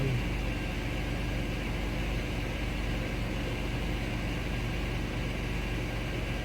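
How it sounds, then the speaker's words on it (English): A 2007 Chevy Uplander engine idling, giving a constant, even hum with a low steady drone and no change in revs. No one speaks over it. "We do have a running car now."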